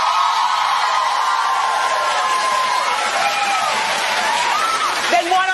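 An audience responds with clapping and crowd noise in a talk-show setting. A steady, fairly loud wash runs throughout, and a voice speaks over it, with tonal sounds sliding near the end.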